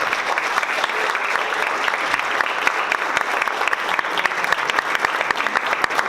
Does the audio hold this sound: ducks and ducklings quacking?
no